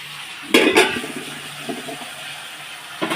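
Chopped pointed gourd drops into a frying pan with fried potatoes, giving two loud clattering hits followed by a low, steady sizzle and faint stirring scrapes, with another utensil knock at the end.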